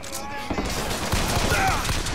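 Rapid gunfire from a first-person shooter game rattles in bursts over a background game soundtrack, with a voice speaking over the shots.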